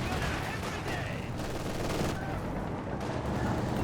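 Machine guns rattle steadily in a World War II-style real-time strategy match, a dense continuous stream of gunfire and battle noise filling the whole stretch at moderate loudness.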